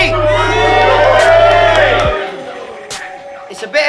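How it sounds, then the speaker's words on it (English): Crowd at a rap battle cheering loudly for a competitor, a dense roar of shouts and whoops that cuts off after about two seconds and leaves faint murmuring. "Everyone make some noise for Kaybe"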